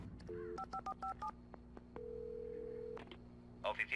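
Telephone dialing in the video game Alan Wake: a quick series of short keypad tones, then a longer steady tone, over a low hum and faint clicks, ending with a brief electronic chirp.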